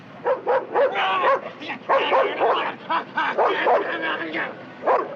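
A man in a film scene barks and yelps like a dog in a stuttering run of loud, voiced bursts with short gaps, close and dry, imitating a dog's barking and whimpering.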